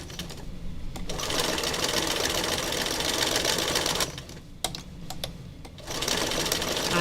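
A sewing machine runs steadily as it stitches fabric, with a dense, fast mechanical whir that pauses briefly twice before starting up again, close and clear with no talking.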